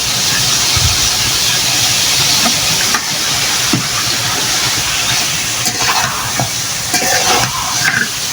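Chopped onions hit hot oil with browning home-raised desi chicken for a Bangladeshi chicken bhuna, a steady loud sizzling hiss with occasional stirring scrapes and clinks throughout.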